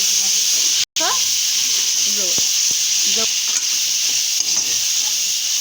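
Ginger-garlic paste fries for biryani in a hot pan with a loud, constant sizzle and hiss. A few brief stirring scrapes break through, and a voice speaks over it at times.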